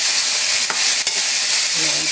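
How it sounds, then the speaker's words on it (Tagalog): Cabbage sautéing in a pan with a little oil, a steady loud sizzle and fry with brief stirring scrapes, close and without talk. "Ginigisa ko muna bago natin i-omelette."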